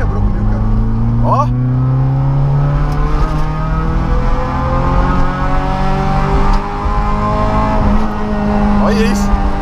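Carbureted, naturally aspirated Chevrolet Kadett with a straight exhaust revs hard and loud close by, its engine note rising and falling through sustained pulls, with someone talking over it.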